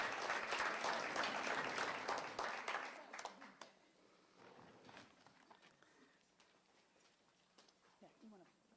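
Applause for practical nursing graduates at a college signing day, a burst of crowd clapping for about three seconds that quickly thins into scattered claps, faint room noise and quiet voices.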